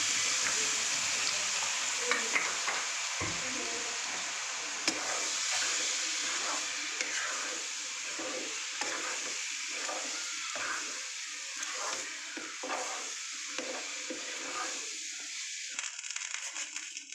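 Semolina lightly frying in a pan for sujir pulao, with a continuous dry sizzle and frequent stirring scrapes, close up and moderately quiet, fading a little toward the end.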